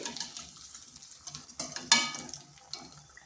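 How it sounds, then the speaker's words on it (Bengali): Semolina and potato snacks frying in oil crackle with a light sizzle and scattered clinks and stirs, close and quiet, no voices. "এগুলো ঠিক এইভাবে ভেজে নিচ্ছি"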